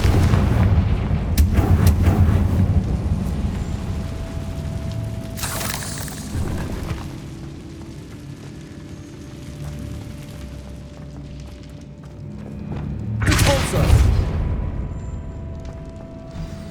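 Confringo blast spells fired in the Hogwarts Legacy video game, a few heavy booming explosions with crackling debris, separated by quieter stretches of rumble.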